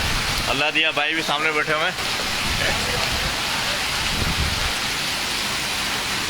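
Wind and rain in Jhuddo, Mirpurkhas, a loud, steady rushing roar of wind-driven rain that continues without break, with someone speaking over it near the start.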